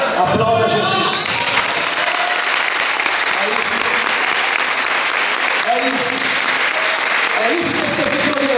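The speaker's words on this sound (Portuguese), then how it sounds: "Aplauda Jesus." Church congregation applauding, sustained dense clapping filling the room, with voices and a preacher speaking over the applause at moments.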